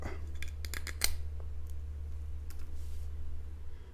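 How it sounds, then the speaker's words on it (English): A fixed-blade, full-tang Eafengrow EF141 budget combat knife snaps through a plastic zip tie, giving a few sharp clicks up front and then faint scattered ticks over a low steady hum. "Try some plastic here next. Got a zip tie. Again, yeah, right through it."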